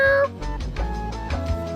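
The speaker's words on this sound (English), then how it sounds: "Whoa, that's a French cat." A cat meows in a short clip of funny cat footage, a few tonal cries near the start followed by fainter rustling and background sound, with no talk over it.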